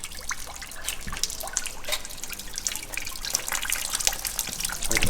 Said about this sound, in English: As you can see, it's just dripping into this bucket.